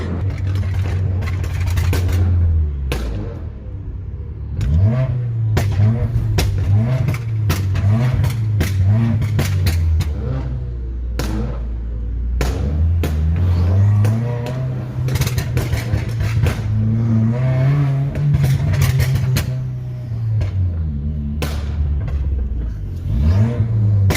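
Subaru WRX with a burble/crackle tune driving through town, engine revving and easing off repeatedly with sharp popping crackles scattered across the run, loud and close with no talk.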